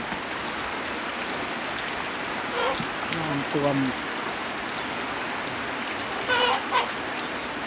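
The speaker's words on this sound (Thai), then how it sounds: "ฝนตก พายุเข้าค่ะพี่น้อง" Heavy storm rain pours in a dense, constant hiss across rural northeastern Thailand, with a person speaking briefly and faintly over the downpour.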